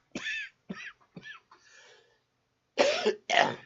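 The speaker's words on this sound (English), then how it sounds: "I really apologize for this cough" A rough coughing fit of about four quick coughs, a short pause, then two more loud coughs close to the microphone.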